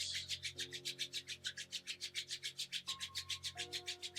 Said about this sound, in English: begin to rub your hands together, warming your palms